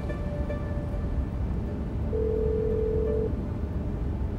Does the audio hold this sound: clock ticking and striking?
no